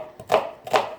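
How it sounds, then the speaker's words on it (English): Onions chopped with a knife on a board for homemade French onion soup: two distinct, fairly soft chops about half a second apart, heard close up with no talk. "I like chopping my onions kind of nice and"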